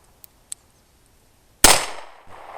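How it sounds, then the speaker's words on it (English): A North American Arms .22 Magnum mini revolver fires a single sharp, loud shot. Two faint clicks come before it, and the blast rings out and decays after. "It's a North American Arms 22 mag."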